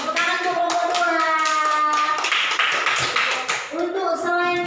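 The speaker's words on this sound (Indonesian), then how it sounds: "terima kasih untuk tepuk tangan untuk kelompok" A classroom of young students claps for a student group, with quick, uneven hand claps and children's voices mixed in throughout.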